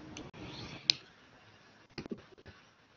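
Keyboard typing comes through as a few faint, sparse clicks, one isolated tap followed by a short cluster of keystrokes, in an otherwise quiet room.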